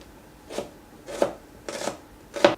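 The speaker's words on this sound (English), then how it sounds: "chopping." A knife chops onions finely on a board, four separate soft crisp strokes spaced about half a second apart, close and quiet with no talking.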